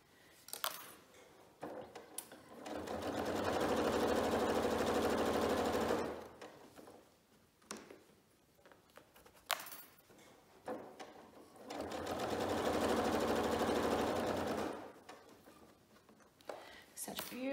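A sewing machine quilts through fabric layers in two sustained runs of rapid, even stitching, separated by quiet stretches with small handling clicks and rustles.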